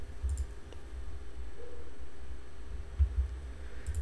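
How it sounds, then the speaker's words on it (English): A computer mouse clicks a create button during a proxy server setup, a few short, soft clicks over a steady background hum, with no talking. "Let's click on create."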